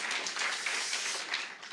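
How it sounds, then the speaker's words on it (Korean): A church congregation clapping together at a worship service, a continuous, fairly close burst of hand claps that swells and slightly fades toward the end. "박수 한번 쳐주세요."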